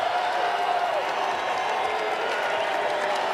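Arena basketball crowd at a Bucks versus Celtics game applauding and cheering, a dense steady roar of clapping filling the space without letup.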